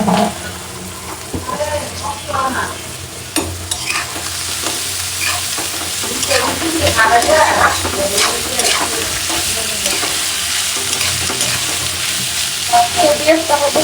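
Whole cardamom, cinnamon, cloves and bay leaf frying in oil crackle with a steady sizzle, punctuated by stirring scrapes and clinks close by, with no voices over them.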